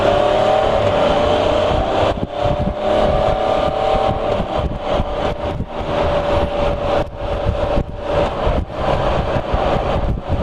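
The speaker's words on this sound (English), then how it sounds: "The engine braking on this is absolutely fantastic. Select the lower gear and you almost don't need a brake." A vehicle's engine drones steadily while engine braking in a lower gear, with a sustained whining tone that slowly drifts in pitch. Heard close and continuous, with no voices.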